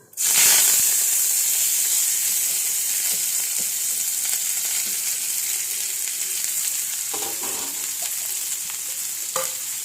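Mustard seeds, chopped spinach, onion and green chili hitting hot oil, setting off a loud, bright sizzle right at the start that settles into a continuous hissing fry with faint stirring scrapes.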